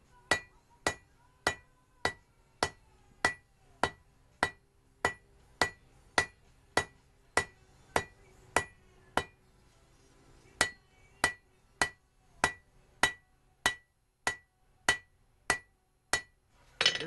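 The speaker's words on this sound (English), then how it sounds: "The handle is differentiated from the rest of the blade by marking it on the anvil." Steady hammer blows ring out on an anvil while a Damascus knife blade is forged, about two strikes per second in two long runs with a short pause between, sharp and metallic, close and alone.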